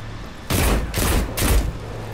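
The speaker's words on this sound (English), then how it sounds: "Those sexy gun sounds." Heavy gunfire in the shooter game Destiny 2, three loud, booming bursts of fire spaced about half a second apart over a low steady background hum.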